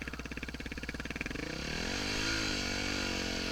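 A dirt bike engine on a power line trail chugs in uneven pulses up close, then smooths into a steady, loud running drone.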